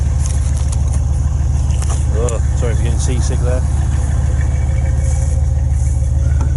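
The engine of a Range Rover P38 idles through its exhaust, a loud, steady low rumble, while a person talks over it.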